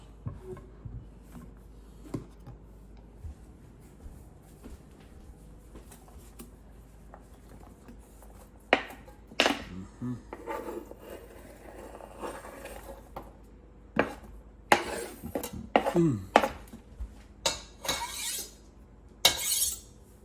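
Chopped celery stalk dropped into a soup pot for beef soup, starting with quiet small taps and then building to a flurry of clattering, pattering pieces and utensil clinks close by.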